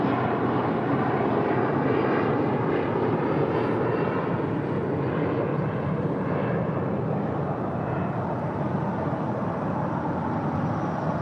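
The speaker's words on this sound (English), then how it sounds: "That's Volaris A321 heading to Guadalajara" Volaris Airbus A321 airliner heading out to Guadalajara, a loud, steady jet roar that fills the whole stretch without fading, with no talk over it.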